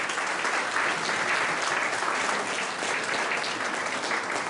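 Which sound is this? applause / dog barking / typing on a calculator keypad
applause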